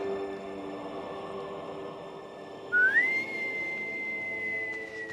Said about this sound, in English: And then he whistled.